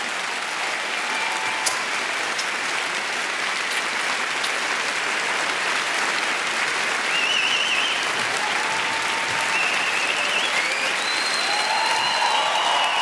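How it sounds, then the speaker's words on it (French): A live audience at a stage magic show breaks into loud, sustained applause that keeps a dense, even roar for the full stretch, with no voices standing out. "Un tonnerre d'applaudissement pour Tania et Eric, s'il vous plaît."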